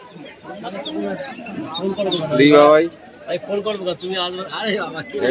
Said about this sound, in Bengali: বুয়েদা আজকে খাঁচা নিয়ে এসছে কিছু পায়রা নিয়ে